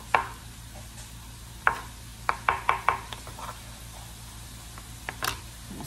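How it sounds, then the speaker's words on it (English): Knife dicing a halved onion on a cutting board, a handful of sharp close chops in a quick irregular run with a couple of isolated strokes, over quiet kitchen background with no talk. "So I cut that onion in half and then I diced it along the way."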